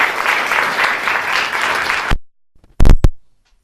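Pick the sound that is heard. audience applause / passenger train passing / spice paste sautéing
audience applause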